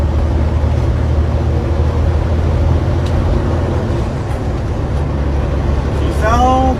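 A big truck's diesel engine pulling steadily in 12th gear, a loud low rumbling drone from inside the cab with road noise, and a person talking at the very end.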